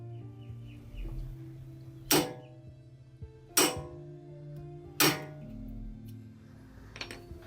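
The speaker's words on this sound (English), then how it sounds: "Now I will be hitting it with the hammer." Three sharp metallic strikes ring out at even intervals, a hammer hitting a tool set in a brake rotor screw, with a faint fourth tap afterward and no talking.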